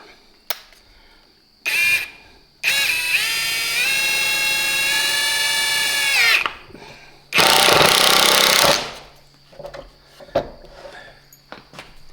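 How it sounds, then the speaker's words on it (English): A new cordless impact driver runs in a long, loud, steady whirring hammer burst, then a shorter harsher burst after a pause, with quiet surroundings between. "I get to try out my new impact driver this company sent me to do a review on"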